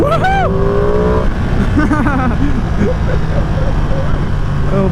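A 2020 Ducati Panigale V2 motorcycle engine revs and climbs in pitch as it accelerates, loud and close, then settles into a steady wind-and-engine roar.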